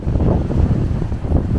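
Loud, gusty wind buffets the microphone in a constant low roar with no voices, in Verona.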